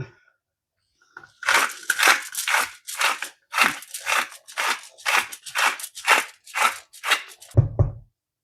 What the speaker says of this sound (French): Et j'ajoute du sel et du poivre.